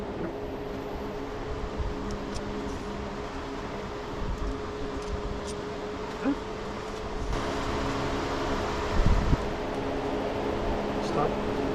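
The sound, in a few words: electric fan running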